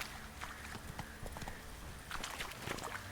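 Geralt's horse Roach galloping in The Witcher 3, a quick rhythmic clatter of hooves close by over a soft outdoor ambience, with no talk.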